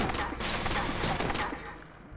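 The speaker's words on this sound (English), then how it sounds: "Does that sound like someone's rapping when he's shooting that gun?" Rapid gunfire in Watch Dogs, a dense, loud fusillade of shots that runs fast and continuous for about two seconds before trailing off.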